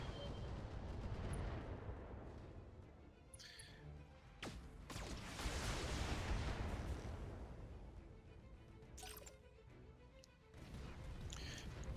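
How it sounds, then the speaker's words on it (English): A MechWarrior mech fires missiles and other weapons at a Jägermech, a dense barrage of booming launches and crashing impacts that rumbles on and off with sharp bursts layered over a continuous roar. "Give him the missiles and everything else onto the Jägermech."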